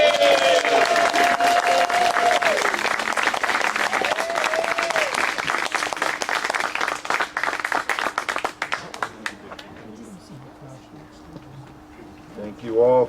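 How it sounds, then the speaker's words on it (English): A big round of audience applause at a celebration, loud, dense clapping that fades away after about nine seconds into quieter room sound with faint voices. "we want to thank them all with a really big round of applause"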